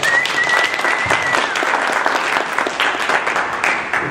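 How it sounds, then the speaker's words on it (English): Sustained audience applause at an awards ceremony, dense steady clapping from a large crowd throughout, loud and continuous with a faint whistle-like tone early on. "Round of applause for Dex."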